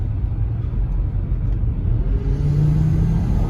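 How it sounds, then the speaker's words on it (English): Engine of a 2005 Volvo S60 T5 with an IPD boost kit accelerating on a straightaway, a steady low rumble that builds slightly toward the end, heard from inside the car with no talking. "let's give it some gas here on the straightaway."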